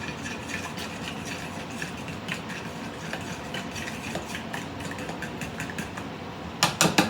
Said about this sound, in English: we're going to give that a mix